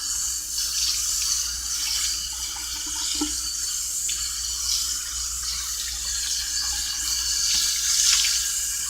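Water runs steadily from a tap while aquarium filter media from a saltwater tank is rinsed, a continuous close hiss with small splashing shifts and no voices.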